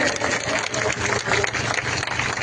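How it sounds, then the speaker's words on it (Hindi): A village crowd claps at a rally welcoming politician Abhay Singh Chautala, dense continuous applause filling the space with some low rumble underneath. "भाई इतनी ताली बजा दो, दिल्ली तक आवाज सुननी चाहिए।"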